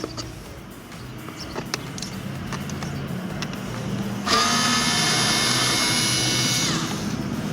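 A power screwdriver or drill runs steadily for a few seconds, backing screws out of the door lock switch on a Mazda CX-7 rear door panel, after a quieter stretch of handling.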